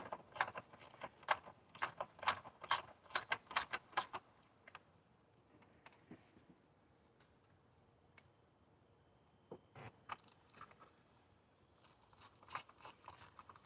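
A torque wrench ratchets in quick bursts of clicks on plastic intake manifold bolts, close and clear, followed by quieter scattered clicks and a few short bursts near the end.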